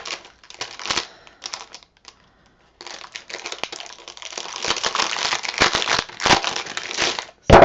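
Crafting material for a Christmas box mini album crinkling and crumpling in close, loud bursts of crackly rustling, with short pauses between handling.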